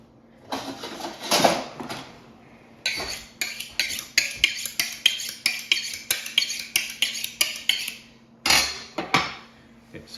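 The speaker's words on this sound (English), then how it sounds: "I need to sharpen this knife a little." A kitchen knife being sharpened before carving a Bourbon Red turkey, a rapid run of about a dozen rhythmic metallic strokes, close and crisp, with a few slower strokes before and after.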